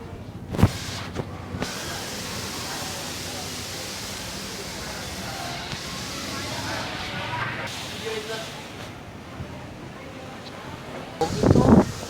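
Very strong, gusty wind roars steadily as broadband rushing noise across the whole stretch, with brief louder buffets near the start and end and occasional faint voices underneath.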